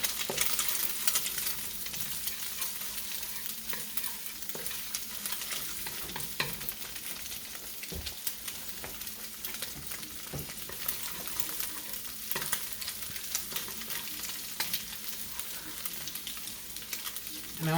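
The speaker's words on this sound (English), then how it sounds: "I'm basically essentially making scrambled eggs. They're almost done now. I'm going to throw in the ham." Scrambled eggs with chunks of precooked ham fry and sizzle in a pan, a steady close crackle with intermittent scraping from stirring throughout.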